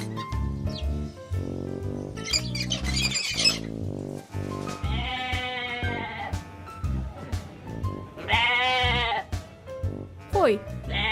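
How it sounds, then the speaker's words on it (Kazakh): Sheep bleat in several loud, wavering calls, close and clear, mixed with other cartoon animal sounds and music-like tones, while a voice speaks between them. "Қой."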